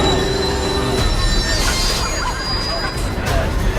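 Train 17 runs on track heading toward a tunnel, its wheels squealing and rumbling loudly and continuously, with voices and background babble mixed in.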